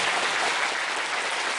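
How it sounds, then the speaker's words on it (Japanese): Conference audience in Tokyo practicing applause at an opening session, a brief burst of dense clapping, loud and steady throughout. "ちょっと拍手の練習をしてみましょうか"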